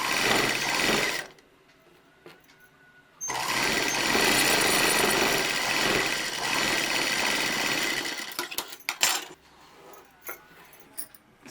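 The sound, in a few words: sewing machine stitching a 2-inch fabric strip on a frock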